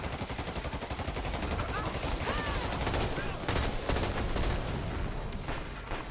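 Gunfire in the online shooter Dirty Bomb, dense rapid shots sustained across the whole stretch at steady loudness, with faint game effects mixed in.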